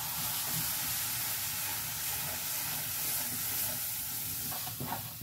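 Dal with asafoetida sizzles and fries in a pan while being stirred, a dense steady hiss with faint scraping, close and continuous throughout without talking.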